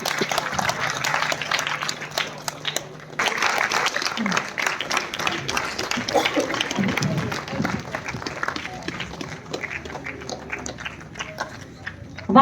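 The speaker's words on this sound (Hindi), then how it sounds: "एक बार आप सब अपने लिए जोरदार तालियां बजा दीजिए।" Applause from an audience at a sports personality awards ceremony, a crowd clapping steadily and crisply, briefly breaking off around three seconds, then resuming and gradually thinning toward the end, with faint scattered voices mixed in.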